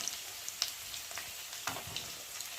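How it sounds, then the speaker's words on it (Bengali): Rohu fish pieces frying in oil in a pan, a low steady sizzle with scattered small crackles and pops, no one speaking. "মাছটা একটু তেলের মধ্যে একটু ভালো করে ভেজে নিতে হবে"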